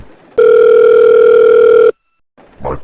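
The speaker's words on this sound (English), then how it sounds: "the classroom phone rang" A classroom telephone gives one loud, steady electronic ring tone lasting about a second and a half, then cuts to silence before a faint rustle.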